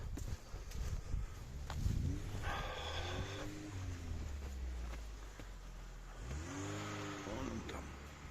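A green Lada Niva drives through grass, its engine revving and rising in pitch in two clear surges, nearby and fairly loud, with people talking in the background.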